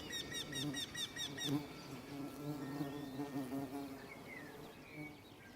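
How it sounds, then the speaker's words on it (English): Wild bees buzz around the flowers of old orchard apple trees, several insects droning close by in overlapping, wavering tones, with faint bird calls in the background. "The old orchard trees have catered to generations of bees and depend on their services."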